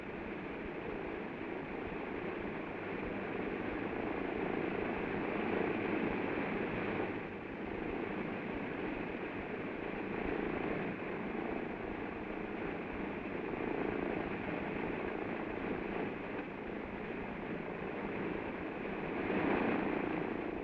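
A military aircraft, helicopter or propeller type, running at a landing zone, its engine and rotor drone steady and loud throughout with slight swells in intensity and no voices.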